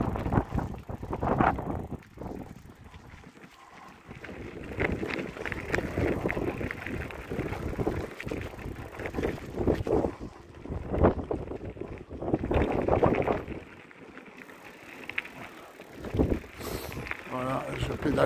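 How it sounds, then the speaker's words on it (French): Heavy wind buffets the microphone in loud, rumbling gusts while riding a bicycle, with a person talking intermittently over the roar. "Le vent il me pousse à mort."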